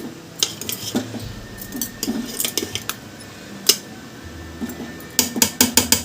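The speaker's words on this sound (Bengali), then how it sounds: "এবার একটা ঢাকা দিয়ে দিচ্ছি, হাঁড়ির ঢাকনাটা" Metal clatter as a lid goes onto a cooking pot of rice with a tiffin box tucked inside, a run of sharp clinks and taps, then a quicker cluster of bright knocks near the end, close by with no talk.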